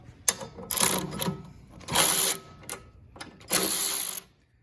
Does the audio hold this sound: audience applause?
no